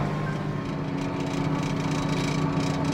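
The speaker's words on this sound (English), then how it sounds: "this tractor's kind of overkill for this planter, but it's what we had, so that's what's pulling it" A tractor pulls a Kinsey planter through a soybean field, its engine droning steadily and loudly throughout with no breaks and no voices.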